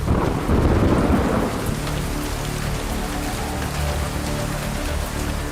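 Heavy rain pours in a dense, steady roar with deep thunder rumbling underneath, loudest at the start and then settling into a constant downpour, with no voices.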